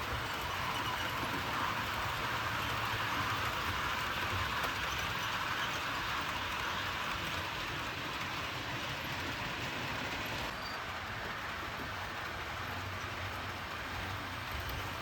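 A model Class 37 locomotive, number 37419, draws off the fuel point on a railway layout. It gives a continuous, even engine drone with a faint rolling undertone, and the sound stays level throughout without any voices.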